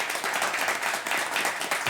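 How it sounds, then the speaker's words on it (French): Steady audience applause from a comedy show crowd, dense, even clapping sustained across the whole moment with no talk over it. "Applaudissez, s'il vous plaît"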